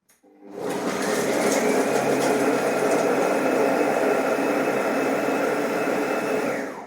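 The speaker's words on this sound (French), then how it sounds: "je laisse le son du Fagor pour vous montrer qu'il n'est pas spécialement très bruyant" A Fagor compact connected food processor runs at speed 7, starting abruptly and holding a steady, loud whirring motor drone for several seconds before winding down.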